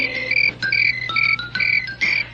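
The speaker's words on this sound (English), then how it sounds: "Listen to the crickets chirping their" Crickets chirp in short, bright trilling bursts, several rhythmic pulses repeating every half second or so over a quiet low hum, close and clear with no voices.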